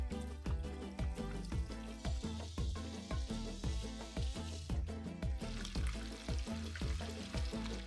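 Bacon-wrapped pieces frying in clean, brand-new oil, a dense crackling sizzle with rapid rhythmic popping bursts, close and continuous with no talk.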